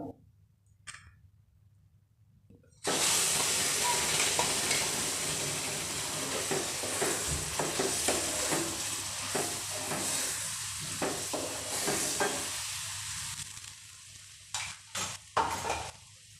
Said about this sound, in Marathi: वाटण परतला आहे